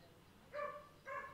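A dog gives two short, faint barks about half a second apart in an indoor setting with no talking.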